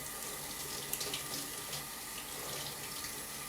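Water tap running steadily into a sink while paintbrushes are rinsed, a continuous close hiss and splash with slight shifts in the flow.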